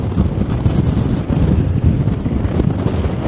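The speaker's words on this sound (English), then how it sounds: "I think you'll be able to hear that wind, and my microphone's wobbling about in it" Wind buffets a wobbling microphone outdoors near a seaside pier, giving a loud, low, continuous rumble with uneven thumping gusts and no talking.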